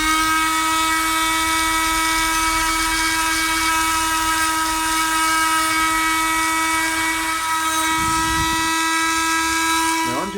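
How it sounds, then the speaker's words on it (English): A Dremel rotary tool whines steadily as it shapes a wooden longbow, a constant high-pitched motor tone with a brief low rumble near the end. "The Dremel just speeded things up a little bit."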